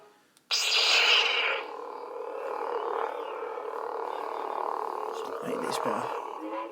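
Stock Crystal Focus sound font on a custom Luke Skywalker Return of the Jedi V2 lightsaber, a sharp ignition burst settling into a steady close, loud electric hum with slight wavering and no voices.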